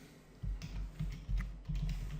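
Soft keystrokes on a computer keyboard come in a short, uneven run of taps, quiet and close, with no talking.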